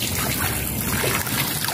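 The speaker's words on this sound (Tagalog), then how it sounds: "Ayan guys, lalagyan ko na siya ng tubig." Water poured into a freshly cleaned, dried-out fountain makes a steady, close rushing trickle that runs without a break for the whole stretch.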